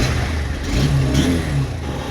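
A motorbike engine, brought down on a mountain road trip from Delhi toward Chopta in Uttarakhand, idles loudly up close and rises in a brief rev before easing back.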